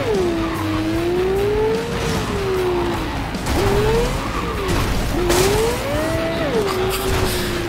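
A car in Cyberpunk 2077 loops round in circles, its engine whining up and down in pitch while the tires squeal and skid through repeated turns, loud and close throughout.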